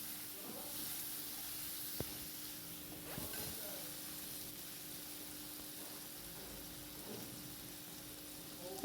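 Masala with bowl-rinse water sautés in a pan, giving a faint, steady hiss and sizzle throughout while a voice talks softly over it.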